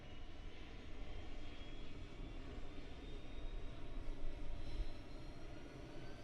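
A light aircraft engine running at high revs during a climb past 5,000 feet, a continuous steady drone with a whining tone and wind rush, heard from inside the cabin.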